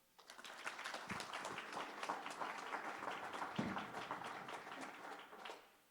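Scattered, crisp clapping from an audience at an awards event in Watertown, steady for several seconds at a fairly low level before tapering off at the end.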